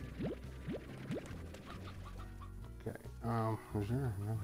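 A chicken in the farming video game Slime Rancher clucks in short rising calls, followed by someone talking over a more continuous bird-like vocal stretch near the end.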